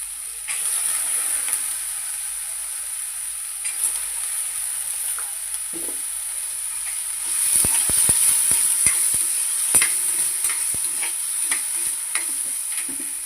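Soaked chana dal goes into a hot pan of oil for tondli bhaji and sizzles under a steady high hiss, with a run of clacking stirring strokes near the end and no one talking.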